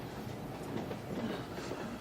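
Passenger train rolling on rails, a continuous rumbling clatter of wheels over track with faint squeals, steady and close throughout.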